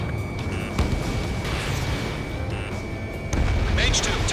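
A missile strikes its target in the air-combat video game Ace Combat 7, heard as booming, rumbling blasts over steady engine roar, with a louder burst near the end, under radio voices.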